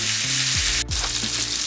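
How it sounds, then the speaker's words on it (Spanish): Bacon-wrapped pork medallions sear in olive oil in a hot pan, giving a steady, loud sizzle and crackle close by, with a brief dip partway through. No one speaks. "Añadimos nuestros medallones envueltos en tocino y los vamos a dejar sellar por aproximadamente 3 minutos de cada lado."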